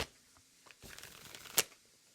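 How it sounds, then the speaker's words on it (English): Aquarian Tarot cards shuffled by hand in a quiet room, a soft riffling rustle building midway and ending in one sharp, crisp flutter near the close. "Let's get the Aquarian Tarot shuffled."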